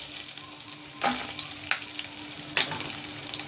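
Byadgi chilies and cashews sizzle in hot oil with a steady crackling hiss, punctuated by three sharper bursts as ingredients hit the pan or are stirred, close and moderately loud.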